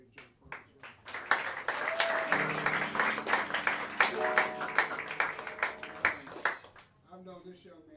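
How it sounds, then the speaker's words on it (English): A small live jazz club audience claps in a scattered, rhythmic round of applause lasting several seconds, with sustained tones ringing underneath and talk near the end. "How about another round of applause for a great Joe Funk as well?"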